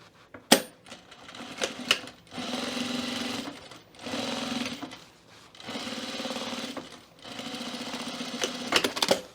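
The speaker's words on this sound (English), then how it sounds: "That's probably your thickest sewing on the whole bag." A sewing machine stitches through the thick layers of a fabric Cocoon project bag in several sustained runs of steady whirring, separated by short pauses and small clicks and taps, close and fairly loud with no talking.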